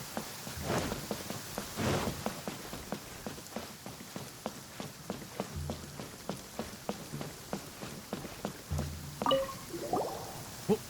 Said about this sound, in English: always rains when I go on an adventure.